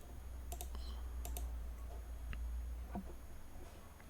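Computer mouse clicks on a PC, a few faint, sharp, irregularly spaced clicks over a low steady hum of room noise, with no talking.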